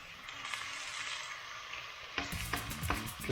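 Rice grains sizzle and fry in oil for nasi goreng, a continuous bright hiss, with scraping and clattering stirring strokes joining in toward the end.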